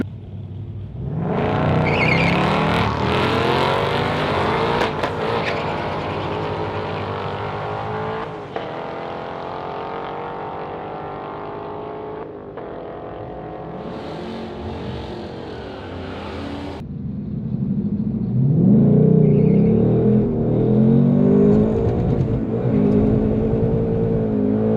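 A 2024 Ford Mustang Dark Horse accelerating hard at a dragstrip, its loud engine roaring and climbing through gears for most of the run, easing off briefly before surging again, close and without speech.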